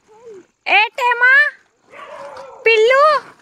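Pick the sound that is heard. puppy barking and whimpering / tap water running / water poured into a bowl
puppy barking and whimpering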